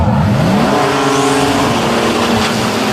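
Two Nissan GT-R drag racing cars launch hard off the line, a loud, sustained engine roar rising in pitch as they accelerate, with a faint tire squeal and no talking.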